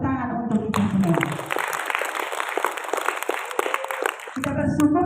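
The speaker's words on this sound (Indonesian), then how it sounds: "Tepuk tangan untuk kita semua." A gathering at a church celebration for the SSpS congregation bursts into dense clapping for about four seconds, with speech just before and after the applause.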